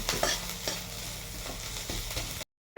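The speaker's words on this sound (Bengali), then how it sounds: "রসুনটা হালকা হালকা করে লালচে লালচে করে ভেজে নেবো" Garlic frying in oil in a pan while cooking moringa greens: a steady close sizzle with a few soft stirring scrapes, then a sudden cut to silence near the end.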